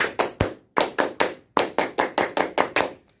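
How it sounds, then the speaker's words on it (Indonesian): The Pramuka (Scout) clap: a single performer claps sharply in a rhythmic pattern, grouping crisp, close hand claps into three phrases separated by short pauses. "mari kita tepuk pramuka"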